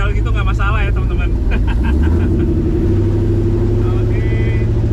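Tubular Ultra4 off-road racing car climbing a hill in 4H, its engine giving a loud, steady, close rumble throughout, with people talking over it.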